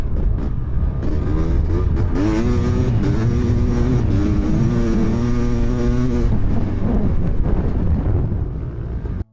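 A Kawasaki KX500, a 500cc two-stroke dirt bike, is ridden hard. Its engine roars loud and close without a break, the pitch climbing and falling through revs, with heavy wind rush over it, and the note fades near the end.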